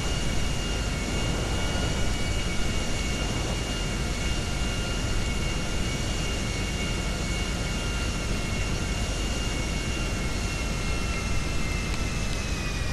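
In the video game GTA 5, an airplane engine drones in flight after being damaged and starting to smoke. It holds a constant loud hum with a high whine laid over it, with no break and no voices.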